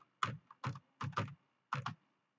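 Keys on a computer keyboard tapped in four short bursts while text is entered in MS Excel, close and crisp with brief pauses between the strokes.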